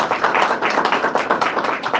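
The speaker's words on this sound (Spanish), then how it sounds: "¿Le pueden dar un aplauso al Señor por su amor?" A church congregation at a Thursday evening service applauding, a dense, rapid patter of many hands clapping in a sustained burst with rhythmic pulses, close and fairly loud.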